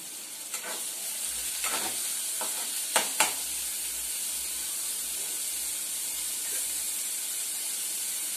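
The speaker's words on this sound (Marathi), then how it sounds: "कांदा चांगला लाल करून घेऊया. आणि ह्या 2 ते 3 लसूण टाकते घेतलेले." Chopped onion and garlic sizzle in an oiled pan, a steady bright hiss with occasional stirring scrapes and a couple of sharp clinks, close and alone.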